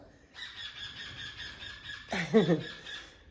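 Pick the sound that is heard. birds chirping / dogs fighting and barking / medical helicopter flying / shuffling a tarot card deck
birds chirping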